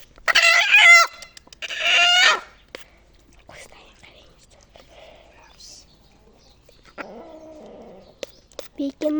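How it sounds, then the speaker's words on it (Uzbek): A rooster crows twice in quick succession, loud and close, followed by quiet soft clucking and faint rustling from chickens, then a few more clucks and a short crow-like call near the end. "Tovuq."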